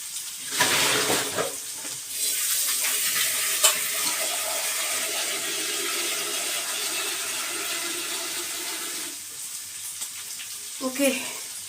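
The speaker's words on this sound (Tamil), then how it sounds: "இந்த தண்ணியை ஊற்றிட்டு வேறு தண்ணி பிடிச்சிட்டு வரேன்" Water is poured out of a kitchen vessel, then a tap runs in a steady close rushing stream for about nine seconds. The flow stops, and a few light clatters follow.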